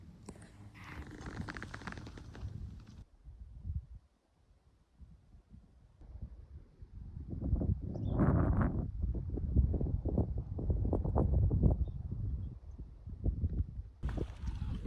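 Gusty wind at Lake Aloha in Desolation Wilderness, Northern California, buffets the microphone in uneven low rumbles, easing briefly then swelling again, with no voices heard.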